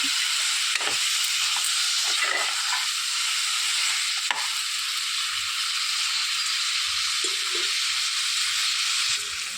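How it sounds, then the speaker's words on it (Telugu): Brinjal pieces cooking in hot oil for a Telugu-style pulusu give a steady, close hiss of frying, with occasional soft scrapes and stirring knocks; no one speaks. "కొంచెం నూనెలో మగ్గనివ్వాలండి. వంకాయలు అనేది మగ్గిపోవాలి."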